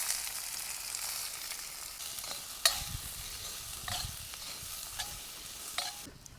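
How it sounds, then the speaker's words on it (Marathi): Onions frying in oil in a hot brass kadhai over a wood-fired village stove, a steady broad sizzle with occasional sharp clinks and scrapes of stirring, no talking. "आपल्याला तेल टाकायचं कांदा परतायला"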